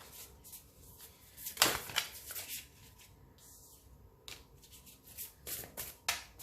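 Cards drawn from an Amante Oracle deck, soft shuffling, sliding and flicking sounds in short irregular bursts, close and quiet.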